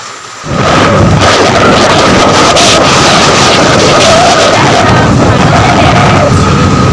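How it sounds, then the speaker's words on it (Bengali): Loud, steady rain pouring down, a dense wash of noise with occasional low rumbles, no clear speech. "এখনও বৃষ্টি হচ্ছে"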